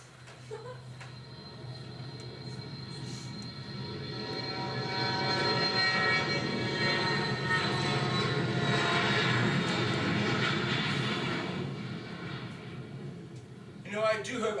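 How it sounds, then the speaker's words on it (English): Jet aircraft roar steadily through a broad rumbling wash, swelling to a loud sustained peak midway and then easing off, as if a plane is passing during take-off or landing. "with all these planes taking off and landing"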